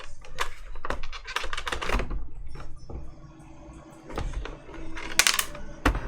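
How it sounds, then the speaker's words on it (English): Keycaps are pushed onto Cherry ML switches in a Kinesis Advantage 1 keyboard, producing a string of close, crisp plastic clicks and snaps in irregular clusters, with a brief pause midway. "let me try to put some keycaps in there"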